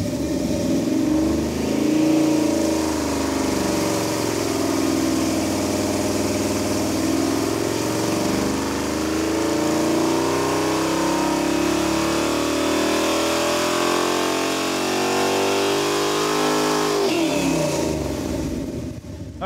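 A carbureted car engine revs hard on a dyno after a carburetor spacer upgrade with a high-rise intake, a loud sustained roar with rising and falling pitch that drops off sharply near the end.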